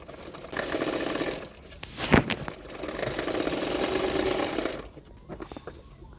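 A sewing machine stitches a blouse seam in two sustained bursts of close mechanical whirring, with a sharp clunk between them and a quiet pause at the end.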